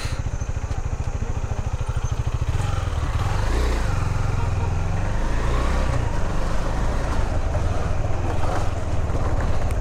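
Steady engine drone from a KTM Duke 390 motorcycle on the move, with wind rush and surrounding road traffic noise blending in a loud, continuous roar.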